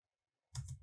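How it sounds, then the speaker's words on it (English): A single soft key press on a computer keyboard, the Enter key, comes after half a second of silence and lands as one brief, quiet click at close range. "Press enter."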